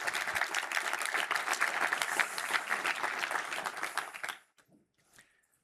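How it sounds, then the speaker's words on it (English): Applause from a corporate keynote audience for a workplace technology demo, a full, even wash of clapping that cuts off abruptly after about four seconds, leaving a few faint sounds in near silence. "Give them a big hand of applause."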